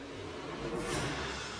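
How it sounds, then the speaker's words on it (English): A swell sample for a Dune-inspired electronic track, a rising whooshing wash of noise over a steady low drone that builds to a bright peak and then holds, with no one speaking. "and the other one is this swell."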